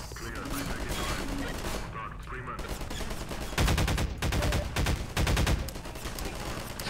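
A powerful weapon fires in the video game Half-Life 2, with repeated loud bursts of rapid shots, some longer volleys and short pauses between them.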